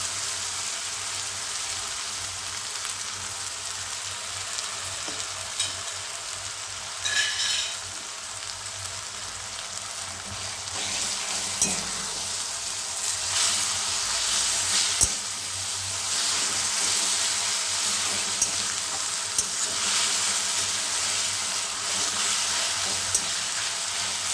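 Chopped ginger frying in hot oil in a pan for a mixed vegetable dry sabji, a continuous loud hiss and sizzle with occasional stirring knocks and surges in intensity.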